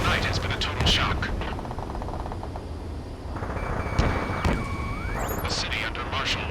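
Gunfire and roaring jets in the combat flight game Ace Combat 7, over a city under martial law: sharp bursts and rattling shots with a rushing engine roar and a rising whine, dense and continuous throughout.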